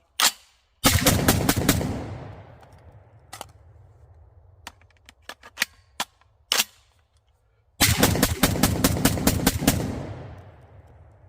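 A JTS M12AR AR-style 12 gauge shotgun fires outdoors, with a few rapid strings of loud close blasts and scattered single shots between them, each followed by a booming echo.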